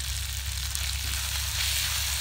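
Chicken pieces sizzle hard in a hot pan for chilli chicken, a dense, loud frying hiss that stays even and close throughout.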